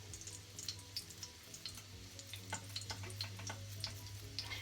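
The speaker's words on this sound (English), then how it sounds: "It's frying good, y'all. It's smelling so good and sizzling and everything." Jack mackerel fries and sizzles steadily in a pan, dense crackling pops over a continuous low hum, with no talking.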